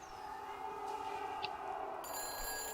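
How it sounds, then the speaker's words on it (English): A telephone rings in the video game Everybody's Gone to the Rapture, a thin tonal trill sounding among an eerie ambient drone and game music, no one speaking. "That phone is ringing."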